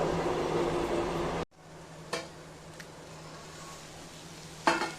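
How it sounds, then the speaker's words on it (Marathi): Korla bhaji, a dish of wild monsoon greens, is stirred in a pan: a loud hiss of sizzling cuts off abruptly, then a few light clinks and scrapes of the spoon against the pan over a faint hum. "पुन्हा एकदा हलवून घ्यायची आणि थोडा वेळ आपण झाकण ठेवून देऊया परत"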